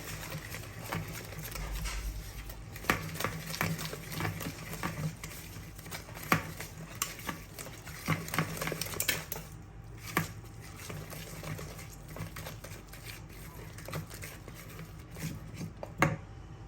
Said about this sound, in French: Et je continue à fouetter.